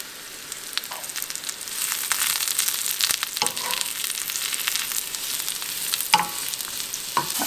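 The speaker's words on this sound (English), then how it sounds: "Now we're gonna be stir frying that one plate of veggies that I had." Vegetables stir frying for vegan bibimbap, lightly salted, give a steady close sizzle throughout with scattered crackles and occasional scraping stirs.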